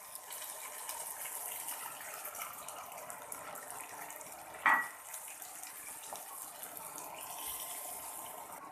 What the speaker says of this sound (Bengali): এখন এর মধ্যে জল দিয়ে দেব। আমি এখানে পরিমাণ মতো জল দিয়ে দিলাম।